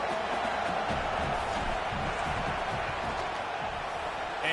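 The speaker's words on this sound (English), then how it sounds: "This crowd trying to do its part to get inside the kicker's head." Stadium crowd noise in a college football video game as the field goal unit lines up, a dense steady roar of many voices with no pauses, loud and unbroken throughout.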